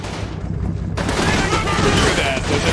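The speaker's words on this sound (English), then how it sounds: "Oh, nice grenade throw." A grenade bursts in Combat Mission Normandy, a sudden loud blast amid ongoing battlefield gunfire, with a dense roar of shots and rumble continuing afterward.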